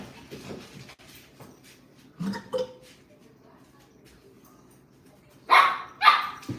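A dog barks twice in quick succession near the end, loud and close, after a few softer yips and background chatter.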